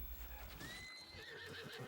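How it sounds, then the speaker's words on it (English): A horse neighs in Zelda: Breath of the Wild, a rising whinny over steady low game background and a few soft hoof thuds, fairly quiet and with no talk. "I didn't mean to hurt the horse."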